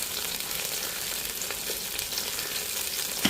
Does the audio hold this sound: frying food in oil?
yes